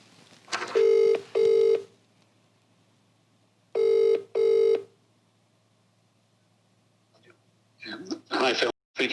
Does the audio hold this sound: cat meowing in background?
no